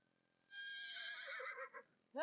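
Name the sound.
Senner horse neighing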